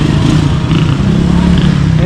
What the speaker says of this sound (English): A lot of tricycles. Got some Jeeps coming.